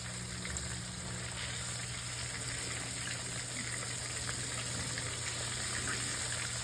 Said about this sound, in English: While that's finishing up frying, we're gonna make our special Popeye's mayonnaise.